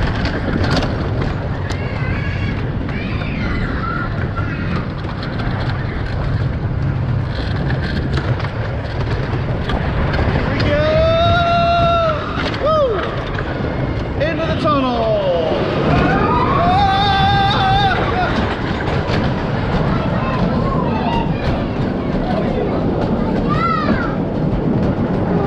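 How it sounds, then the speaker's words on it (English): Classic manually operated wooden roller coaster at Linnanmaki, Finland, a constant loud rumbling roar of the train on the track with rising and falling whistling tones mid-ride, with people talking and shouting over it. "I love this coaster. Here we go."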